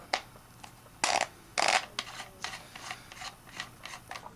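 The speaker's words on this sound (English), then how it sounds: "First thing you want to do is take your magazine cap off. It just screws off." Magazine cap being unscrewed from a Winchester 1400 shotgun, a series of close, quiet metallic clicks and scrapes, two louder rasps near the start, then lighter ticks.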